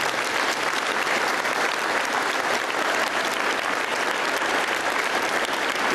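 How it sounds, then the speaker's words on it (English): Sustained applause from a banquet audience at a sports awards dinner, honoring two coaches, a dense, even clatter of many hands clapping for several seconds. "Please give these two outstanding coaches and teachers a round of applause."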